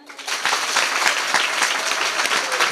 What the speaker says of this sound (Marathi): वाजवा टाळी